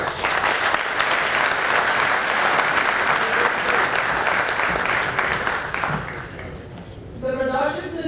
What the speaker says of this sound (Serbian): molim vas da još jednim velikim aplauzom iskažemo poštovanje i zahvalnost našem predsjedniku